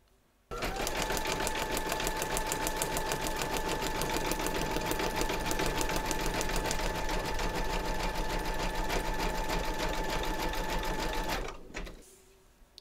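A large vintage sewing machine zigzag stitching runs in one long continuous burst of rapid, even mechanical whirring and ticking for about eleven seconds, close and steady, then stops, with a few small clicks after.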